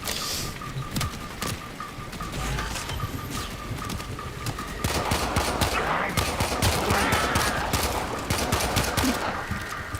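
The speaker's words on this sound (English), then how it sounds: "Forgo stealth with this rapid-fire semi-automatic pistol." A rapid-fire semi-automatic pistol in the Warframe video game, heard as a dense run of sharp shots that grows busier midway, with game effects and a steady tone beneath.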